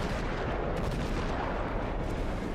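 Naval gunfire from a warship in the World of Warships video game, a dense continuous rumble of heavy cannon blasts filling the whole stretch with no talk over it.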